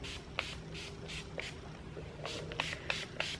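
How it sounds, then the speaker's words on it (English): Short bursts of spray from a can of wax coating hit furniture in a quick, uneven series of hisses, close and fairly soft against a quiet room. "Oops, sprayed on that one."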